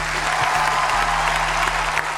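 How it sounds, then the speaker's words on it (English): Arena audience applause for a Danish boxer being introduced, a broad, steady roar of clapping held at even loudness with a low hum running underneath. "give a big round of applause for the greatest Danish boxer of all time"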